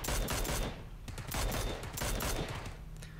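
Rapid automatic gunfire in the battle royale game PUBG on Xbox, dense rattling bursts close and loud, with several volleys overlapping in quick succession.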